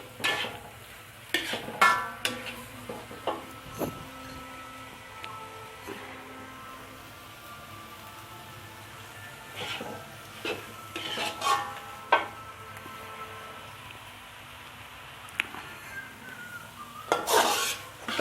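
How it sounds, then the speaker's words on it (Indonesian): Spicy squid with chili is stirred in a pan as it cooks, making repeated metal utensil clinks and scrapes over a soft, low sizzle. The clatter comes in bursts with quieter gaps and no speech. "Aduk terus ya guys sampai matang"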